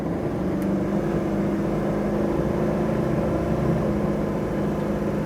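A 1968 Chevrolet Camaro Z28 with an automatic transmission accelerates through its gears, heard from inside as a steady, loud engine drone with rumbling harmonics that stay fairly even over several seconds.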